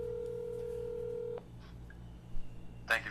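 A telephone on speakerphone gives a steady tone that cuts off, then a few faint beeps and a short burst of noise.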